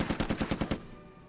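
Six evenly spaced shots from units firing in Lock 'n Load Tactical Digital, a World War II Pacific wargame, in a quick rhythmic burst that stops and fades into a short ringing tail.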